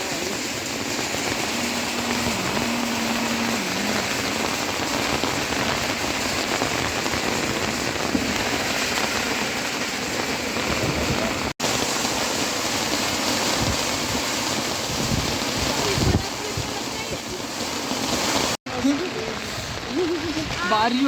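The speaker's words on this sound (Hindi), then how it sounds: "बारिश वैसे आ रही है, हवा वैसे आ रही" Steady rain pours down in a dense, continuous hiss, close and loud, with a couple of sharp clicks breaking through, on the road from Munsiyari to Khaliya in the mountains.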